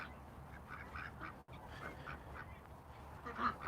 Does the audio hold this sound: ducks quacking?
yes